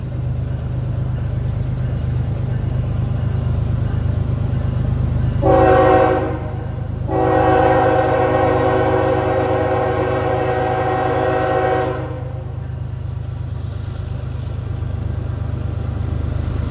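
A freight train rumbles steadily, and its horn sounds in two blasts, a short one followed by a long sustained one, loud and fairly close.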